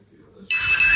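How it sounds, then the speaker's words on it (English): A DOORBO COP 9000 motion-activated home defense alarm suddenly sounds halfway through, a loud, steady high-pitched electronic tone after a quiet start. "Got the DOORBO COP 9000 motion activated home defense alarm system."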